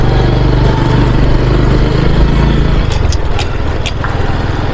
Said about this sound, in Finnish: Tää minunkin mopo on kevyin moottoripyörä